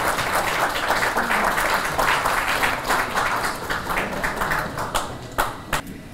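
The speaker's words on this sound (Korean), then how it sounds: "여러분 큰 박수 부탁드립니다" Audience clapping at a Korean community associations' New Year ceremony and chair inauguration in New York, a dense round of applause that thins into a few scattered claps near the end.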